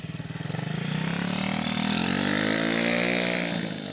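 A TAO DB14 110cc dirt bike engine running in first gear, its buzzing note climbing steadily as the small engine revs up and pulls away close by, loud and unbroken.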